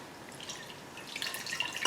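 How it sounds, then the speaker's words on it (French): Water dripping from an engine part of a 2012 Subaru Forester under repair, faint patter of small drops that grows slightly louder toward the end, heard alone with no talking. "on voit l'eau qui coule"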